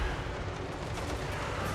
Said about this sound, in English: the war wagons and the Wissenberg's Velkomers waiting to welcome the enemy with the grenade volley